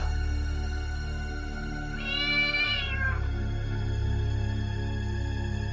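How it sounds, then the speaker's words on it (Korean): A single drawn-out cat meow rises and falls midway through, standing out clearly over a steady low background hum. "가끔 문 밖에서 고양이 울음소리가 들리기도 합니다."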